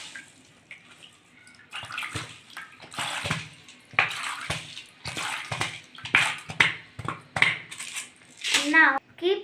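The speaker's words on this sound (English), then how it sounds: "let's pour the water again." Water poured over soaked, sprouting grains in a kitchen, splashing in uneven bursts with clinks of a vessel and a few faint voices in the background.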